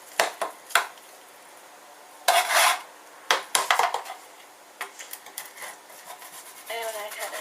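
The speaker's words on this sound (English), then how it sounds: "So we're going to cut it like that," A knife slices through a vegetable bake in its dish with scattered scraping strokes and taps against the dish, a few louder cuts in bursts, close and fairly quiet.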